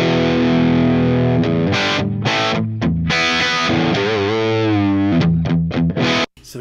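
A heavily distorted electric guitar through a Marshall JMP amp and speaker cabinet plays loud sustained chords and bending notes, with gritty overdriven tone throughout and a brief drop to silence near the end.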